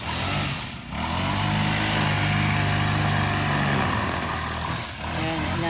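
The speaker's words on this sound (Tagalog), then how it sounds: "Yun po yung asawa ko, nag-grass cutter po." A grass cutter's small engine droning steadily and fairly loudly while cutting grass outdoors, nearby, with a dip in power near the start and another near the end.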